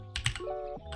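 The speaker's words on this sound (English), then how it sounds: "I'm going to do a quick speed test typing with one hand" Typing with one hand on a computer keyboard gives a few quick key clicks in a brief burst, close and clear, with a steady tone running underneath.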